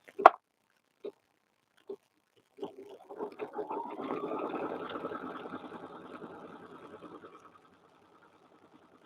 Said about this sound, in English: it's going to come and it's going to stitch down both sides of this